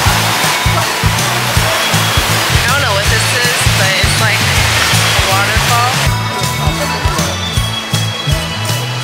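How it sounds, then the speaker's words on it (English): A steady roar of rushing water from a waterfall fills the scene, with voices and a low rhythmic hum underneath. "Waterfall."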